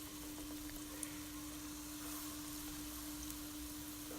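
Bonda batter with greens frying in hot oil, a steady soft sizzle and bubbling hiss throughout, faint and even with a low hum underneath and no talking.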